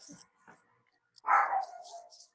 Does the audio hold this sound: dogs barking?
yes